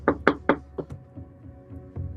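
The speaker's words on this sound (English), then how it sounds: "You knock a few times." Several sharp knocks on a door, a quick cluster of four or five raps followed by a couple of softer, spaced taps, close and distinct in an otherwise quiet room.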